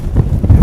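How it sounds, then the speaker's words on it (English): Strong wind buffets a microphone outdoors in New York City, a loud, low rumble that rises and falls in uneven gusts with no voices. "It's so windy now."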